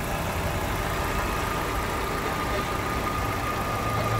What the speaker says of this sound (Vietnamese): Rất hiếm khi mà kiếm được một chiếc 2005 mà máy nổ ngon như này.